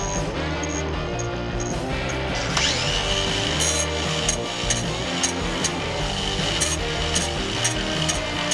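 A power tool grinds cage bike pedals to sharpen them. The loud, continuous abrasive whine rises and falls as the metal is worked, broken by short scraping bursts.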